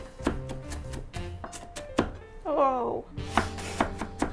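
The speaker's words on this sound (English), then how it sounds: "now I'm just going to use a small onion and finely chop this as well" A small onion being finely chopped with a knife on a board: a rapid run of sharp, close knife taps in uneven bursts, with a short vocal exclamation partway through.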